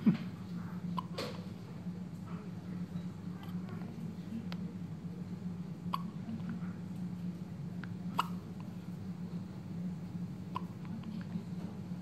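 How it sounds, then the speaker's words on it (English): A newborn baby hiccups repeatedly, with short, soft, sharp catches spaced irregularly, close to the listener over a steady low background hum. "Hiccups are annoying, aren't they?"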